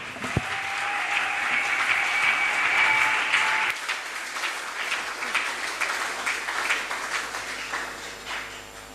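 A church congregation applauds loudly for several seconds, a dense wash of many hands clapping that swells, then drops somewhat in level and continues more thinly toward the end, with a faint voice underneath.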